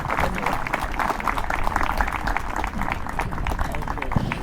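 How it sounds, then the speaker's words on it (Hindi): Loud applause welcomes a chief guest onto the stage at a gathering in Ziro, a busy, continuous clatter of many hands clapping close by with some crowd noise mixed in. "जोरदार तालियां।"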